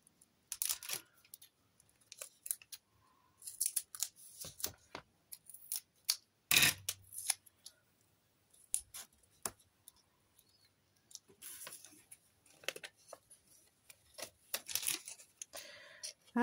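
Scissors cutting paper for a Christmas art collage, with scattered crisp snips and rustles close up, irregular in rhythm, between quiet pauses.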